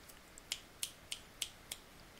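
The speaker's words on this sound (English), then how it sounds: "snap my fingers like you can hear me" Five crisp finger snaps at a steady, even rhythm, close and distinct against a quiet background.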